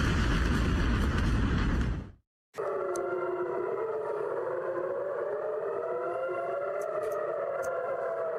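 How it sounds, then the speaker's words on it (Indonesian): Siren wailing loudly and steadily, its pitch slowly rising and falling after a brief silent gap, with a dense loud noise burst before the break. "Sirine"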